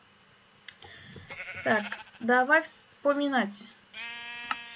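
Sheep in Minecraft bleat several times in a row, close and clear, wavering calls between brief clicks, with someone speaking briefly in Russian at the start.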